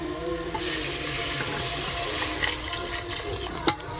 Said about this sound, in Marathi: आता पाणी टाकू.